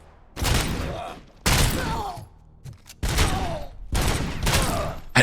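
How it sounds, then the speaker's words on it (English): Gunfire in the Robocop: Rogue City video game, coming in four loud bursts of rapid shots separated by short pauses, each a dense, close, crackling volley. "I started firing"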